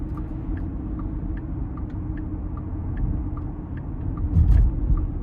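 A 2024 Porsche Cayenne Premium Package Plus drives in sport mode. A steady low engine and road rumble fills the cabin, swelling slightly toward the end, with faint ticking over it.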